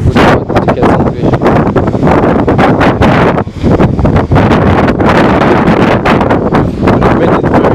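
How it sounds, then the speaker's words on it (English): Strong wind buffets the microphone on a Barbados coast during a fishing outing, a loud, steady roar with gusty pulses and a brief dip midway, no talking. "The wind is very high over here."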